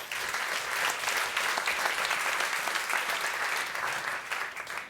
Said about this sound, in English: Big warm round of applause for all of them